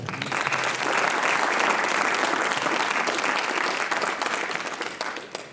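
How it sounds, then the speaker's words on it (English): A room full of people at a writers expo applauds an author steadily for several seconds, a dense wash of clapping that fades slightly at the end. "Please give another round of applause"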